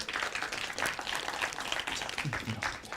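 An audience applauds after a team's project presentation at a developer-course showcase, steady moderate clapping from many people across the whole stretch, with a few voices underneath.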